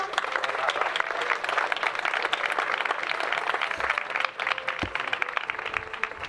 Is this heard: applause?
yes